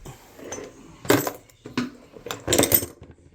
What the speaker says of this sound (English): so we'll here get rid of these 3 screws